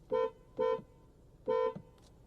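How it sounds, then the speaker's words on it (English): Three short car horn honks from a 2023 Kia Stinger, loud and close, the first two quick in succession and the third after a brief pause, with no talking. "Honking the horn"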